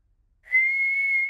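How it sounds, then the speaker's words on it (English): A Peppa Pig cartoon character whistles a single clear, sustained steady note lasting about a second, clean and close with nothing else around it. "George can whistle."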